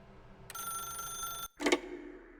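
A telephone in The Stanley Parable video game gives a sharp electronic ring lasting about a second, a brief pause, then a shorter second burst, clear and close with no talk.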